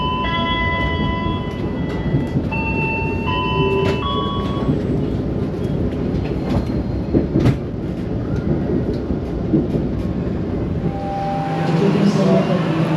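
Argo Merbabu passenger train standing at or pulling into Cirebon station, a steady low rumble with tonal hums and squeals, brief clanks, and a surge of noise near the end, continuous throughout.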